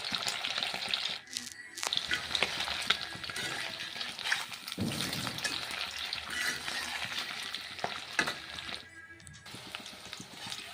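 Chicken pieces frying in oil for restaurant-style chicken fried rice: a continuous moderate sizzle with crackles and stirring scrapes, broken by a couple of short pauses.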